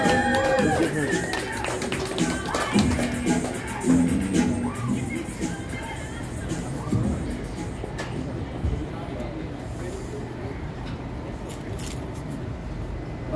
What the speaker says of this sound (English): Give a big round of applause for your last comedian, your headliner, Christopher Anthony!